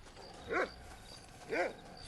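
A dog in the Red Dead Redemption video game barks twice, about a second apart, two clear separate woofs heard at moderate distance over a quiet background.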